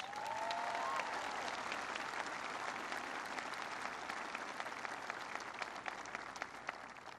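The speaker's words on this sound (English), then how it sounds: "Give him a big round of applause." Sustained audience applause at an event honoring service members, a thick continuous roll of many hands clapping, steady and fairly close for the whole stretch.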